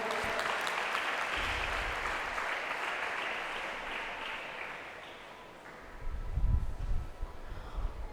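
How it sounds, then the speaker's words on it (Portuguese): Church congregation applauding steadily, a dense wash of clapping that fades slightly midway and swells again with low rumbling near the end. "Aplauda o Senhor"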